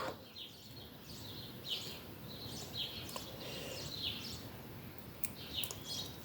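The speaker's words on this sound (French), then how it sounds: "je sais pas si vous entendez les petits oiseaux en fond" Small birds chirp and tweet in repeated short bursts, distant and faint over a soft steady background hiss.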